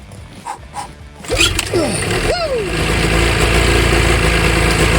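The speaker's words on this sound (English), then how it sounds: "when the engine actually turns on" A few faint sounds, then a snowmobile engine sputters to life after a pull-cord start and settles into a loud, steady, rough idle close by.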